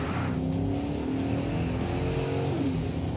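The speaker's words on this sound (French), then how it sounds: "Gaz au fond, accélère fort." A pickup truck's engine roars continuously close by under full-throttle acceleration from 0 to 100 km/h, its pitch climbing steadily.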